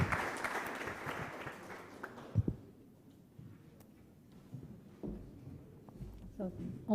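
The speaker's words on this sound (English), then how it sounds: "please let us give a very warm round of applause to panelists and to the participants" Audience applause at the close of a climate-crisis workshop panel, loud at first and fading away over about two seconds, followed by a quieter room with some talk.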